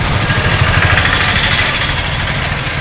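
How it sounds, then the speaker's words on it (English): A tuk-tuk auto rickshaw engine runs steadily in a Nairobi street near Kibera, a continuous low throbbing idle with a buzzy mechanical tone that stays close and fairly loud throughout. "Hiyo ni tuk-tuk."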